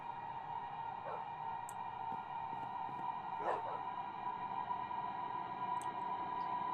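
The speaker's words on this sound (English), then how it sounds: "Sudden appearance of countless dogs." Dogs in the video game Minecraft give a few short, faint barks and yips over a steady drone of creepy game music.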